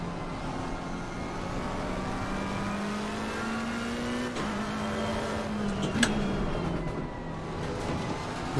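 Race car engines in a racing video game with a McLaren 720S chased by a Porsche at Barcelona, a continuous engine drone that rises and falls steadily, with faint tire noise and no talk.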